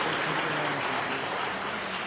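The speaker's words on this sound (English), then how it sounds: "let's give them a round of applause" Audience applause at a national dialogue conference in Pretoria, a steady dense wash of clapping that continues for the whole span at moderate level, with faint voices underneath.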